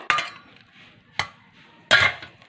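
Strained papaya, with squash, is tipped into a bowl in three sharp clinks and clatters of utensil on dish, each followed by quieter scraping, close and clear.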